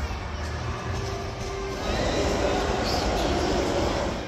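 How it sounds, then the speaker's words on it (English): An overhead train rumbles past at a theme park plaza in Abu Dhabi, a steady mid-distance roar that swells partway through over crowd ambience. "Oh, there's a train up there."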